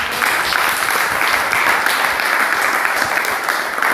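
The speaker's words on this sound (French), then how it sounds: "Applaudissons pour nos femmes qui prient pour nous alors que nous sommes ici." Sustained clapping from a church audience mid-sermon, thick and evenly spread with sharp individual hand strikes poking through, lasting about four seconds without speech.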